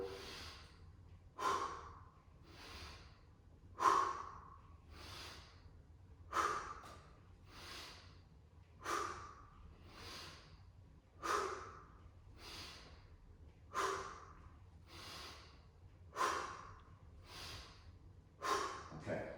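Rhythmic breathing during bodyweight split squats, paired inhales and strong exhales repeating about every second and a half, close and clear.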